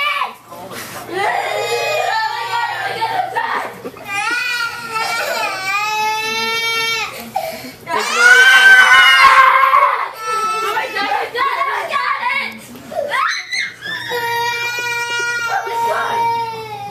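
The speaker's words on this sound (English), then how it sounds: "And she got her new backpack and now she's screaming." Excited girl screams and shrieks over a new yellow anime-character backpack, long high-pitched wailing bursts that rise and fall across the whole stretch, loud and close, with brief pauses and gasps between cries.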